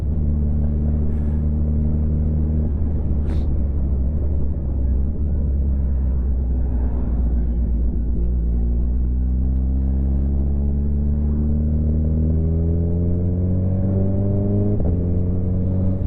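A Suzuki Hayabusa motorcycle on the road gives a loud, continuous engine drone that holds steady and then climbs in pitch as it accelerates, with a brief shift blip near the end and a rushing background.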